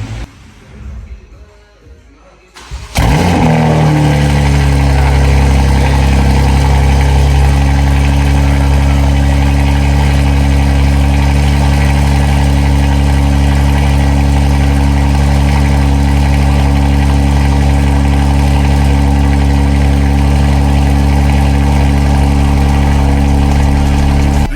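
A tuned BMW G80 M3 fires up from cold after a quiet moment, settling into a loud, steady, deep idle drone that holds unbroken for the rest of the clip.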